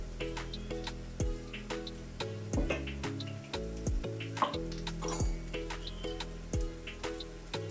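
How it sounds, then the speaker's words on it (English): Hake fish cakes fry in a pan with a steady, close sizzle and repeated sharp ticks and taps from utensils against the pan, with no voices. "frying the outside to cook our fish cake"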